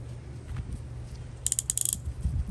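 A restored 1960s Indestro Select Model 6470 ratchet, its gear freshly oiled, gives a quick close burst of about a dozen crisp metallic clicks over a low mechanical hum, then goes quiet again.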